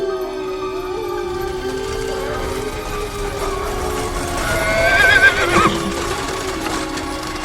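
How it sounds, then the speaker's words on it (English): Four black horses pulling a small carriage down a narrow road neigh and whinny over steady clip-clopping hooves and creaking mechanisms, loud and continuous with a swell in the middle. "Four black horses were pulling it"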